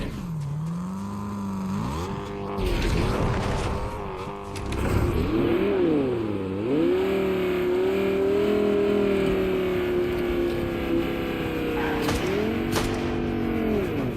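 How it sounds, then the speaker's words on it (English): A monster truck engine in the video game Fortnite drones loudly and continuously, its pitch rising and falling as it revs and accelerates, then holding a steady high whine with no talk over it. "This guy's got a heck of a monster truck."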